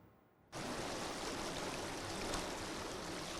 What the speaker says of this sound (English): Sounds of gushing water at the cut-off point here at Abamfru.